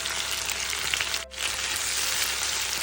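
Onion and garlic sauté in a pan with a steady, close hiss of sizzling oil that dips for a moment before carrying on evenly.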